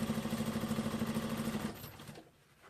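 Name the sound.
sewing machine stitching a drop shoulder shirt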